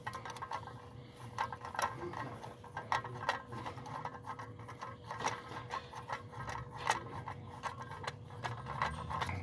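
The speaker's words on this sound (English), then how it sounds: "And just start screwing it in." A long screw being driven in to mount a Blink floodlight bracket, heard as an irregular, steady run of faint mechanical ticking and grinding, close by with no talk.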